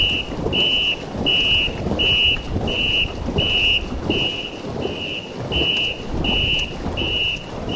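Steady, heavy rain with low rumbling swells, under a repeating high electronic beep.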